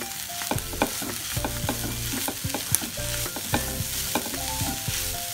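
Clams roasting in a pan for a Kerala-style clam fry, a spoon stirring and scraping in steady repeated strokes over a constant sizzle, loud and close with no voices.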